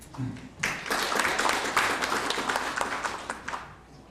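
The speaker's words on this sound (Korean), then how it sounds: "한 번 더 박수 보내주시기 바랍니다" An audience at a maritime safety conference breaks into applause after a brief spoken moment, many hands clapping in a dense, fairly loud burst that holds until the end.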